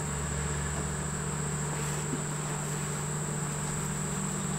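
Honeybees buzz around an open mating nuc hive, a steady continuous drone close by with no talking over it.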